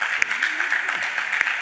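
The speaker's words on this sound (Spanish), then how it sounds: "Un aplauso para los cuatro" Applause from an audience thanking four panel speakers at a debate on technology and youth, a steady clapping wash with a voice speaking over it.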